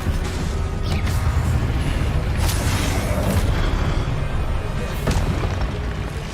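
A Confringo explosive spell goes off in Hogwarts Legacy, a dense rumbling boom with several sharp crackling bursts rising over a continuous roar of battle noise.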